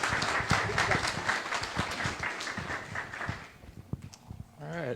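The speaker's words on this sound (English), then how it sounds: "how about a nice round of applause for our Senator Angus McKelvey as well" Audience applause at a community disaster recovery meeting, a full crowd clapping steadily that tapers off near the end as a voice begins speaking.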